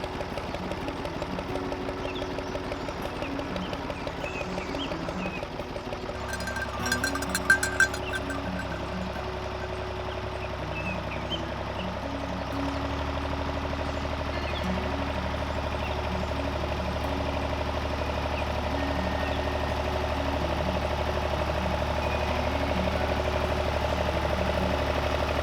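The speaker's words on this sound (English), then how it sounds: "It's a good thing then that we have a tractor." A tractor strains to drag a heavy building across bumpy grass terrain at a farm, its engine droning steadily and shifting to a deeper, louder tone partway through, with clanking knocks along the way.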